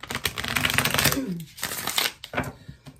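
A deck of tarot cards is riffle-shuffled up close, with fast fluttering bursts, a brief pause, then another quicker riffle.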